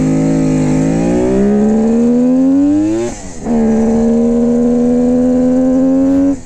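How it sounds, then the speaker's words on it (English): A loud Kawasaki H-series two-stroke triple motorcycle engine revs and holds, dips briefly around the midpoint, then climbs again with a raspy, buzzing two-stroke exhaust tone, close by. "it's their crazy exhaust. Take a listen."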